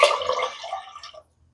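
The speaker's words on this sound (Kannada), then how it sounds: "ಸೊ ಇನ್ನೂ 2 ಗ್ಲಾಸು ನಾನು ನೀರೇ ಆ್ಯಡ್ ಮಾಡ್ಕೋತಾ ಇದ್ದೀನಿ" Glasses of water tipped into a pot of mutton curry make a brief, close gushing splash of about a second that stops abruptly into quiet.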